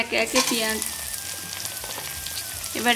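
Chopped onions drop into hot oil already holding bay leaf and whole dried red chilies, giving a crackling sizzle like light rain, with faint clinks and stirring at the start and end.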